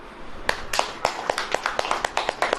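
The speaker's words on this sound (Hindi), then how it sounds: "ऐसे ताली बजाएं," A church congregation claps in unison during a Hindi Bible sermon, about a dozen sharp, evenly spaced handclaps in a steady rhythm, close and clear over a quiet hall.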